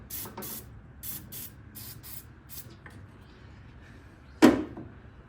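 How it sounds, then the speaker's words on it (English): Short hissing bursts of penetrating oil sprayed from a can onto a steering part of an International Harvester Scout II in a garage. Several quick puffs come in a row, then a pause, then one louder, sharper blast, close and otherwise quiet. "let's try some penetrating oil"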